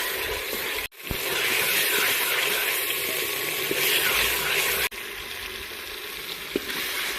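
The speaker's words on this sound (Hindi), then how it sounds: "थोड़ी देर के लिए हमने इसको भूनना है," Tomatoes frying in a spice masala in a pan for a village-style mixed vegetable dish, a steady soft sizzle and crackle at close range, with two brief cuts in the sound and no talk.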